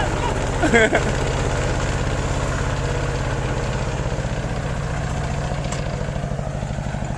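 An RT110-engined tractor pulling a three-disc plough chugs at a steady, loud idle-like rhythm close by, with a brief clank early on and voices talking over it.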